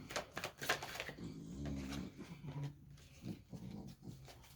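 A dog indoors in a room gives a few short, rough barks and growly sounds at a fairly quiet level, with no talking.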